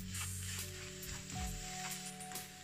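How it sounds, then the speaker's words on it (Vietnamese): Mung bean filling being stir-fried in a pan, a quiet, even sizzle with soft scraping strokes and a low background hum. "Thông sẽ xào chảo nhân này."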